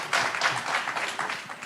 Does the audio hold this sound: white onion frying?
no